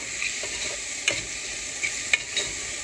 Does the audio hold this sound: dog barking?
no